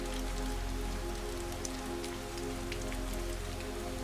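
Steady rain falls in a continuous, even patter on surfaces, close and moderately loud with no voices, a constant wash of drops with scattered sharper taps throughout.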